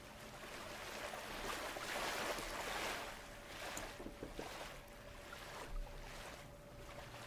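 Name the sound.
ocean sea soft waves sound effect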